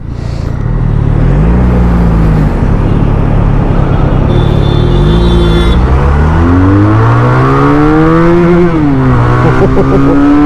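A 2023 QJ Motor SRK 400 twin-cylinder naked motorcycle engine revs hard and loud, its pitch climbing in repeated sweeps up toward about 10,000 RPM, then dropping back and rising again, with no talk over it.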